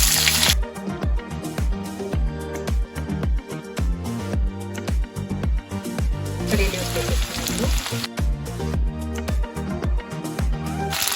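Cumin seeds, finely chopped green chilli and onion frying in hot oil in a home kitchen, a steady close sizzle running throughout with brief bursts of crackle and clatter.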